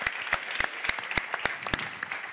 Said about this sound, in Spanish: Un aplaudiment per la banda,